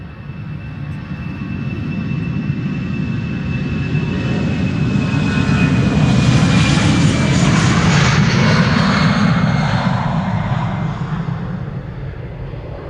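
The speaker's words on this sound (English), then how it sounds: "EasyJet on the way." An EasyJet jet airliner at Schiphol Airport passes with a loud, steady engine roar that swells toward the middle and slowly fades, with a thin whine riding above it.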